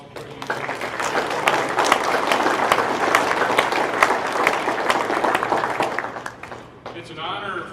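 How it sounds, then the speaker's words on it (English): An audience at a high school Wall of Fame ceremony bursts into sustained, dense applause that holds steady for several seconds, then thins toward the end as a voice begins speaking. "I think we owe Mr. Connick and the Wall of Fame Committee a round of applause"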